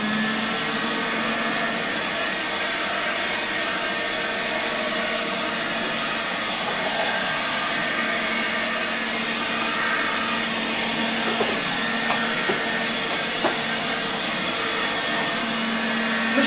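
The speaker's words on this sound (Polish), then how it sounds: "Do tego celu założyłem tylko taką rurę chyba od starego polskiego odkurzacza z taką ssawką z włosiem" A 1958 East German Omega 1060 handheld vacuum cleaner, fitted with an old tube and a bristle brush nozzle, runs steadily throughout with a loud, close, unbroken whining roar.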